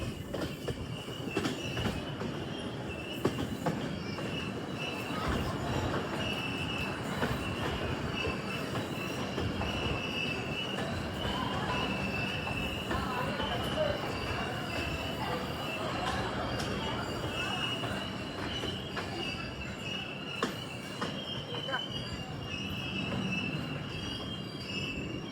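Devagiri Express on Indian Rail pulling into Dharmabad station, a continuous loud rumble of wheels and carriages with clickety-clack and squealing wheels, heard from inside the train with faint voices underneath.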